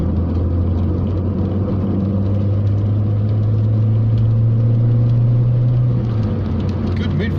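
A Renault Megane Coupe pulls through the mid-range on an open road, its engine drone heard from inside the cabin rising steadily in pitch over a loud, constant road rumble before easing off near the end.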